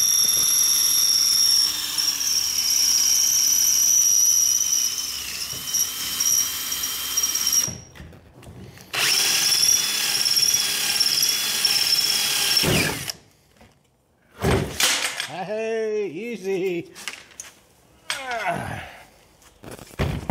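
Power drill boring out rivets on a 1964 Thunderbird interior, a steady high whine running for several seconds, then cutting out, restarting, and ending in short uneven bursts as the bit works through.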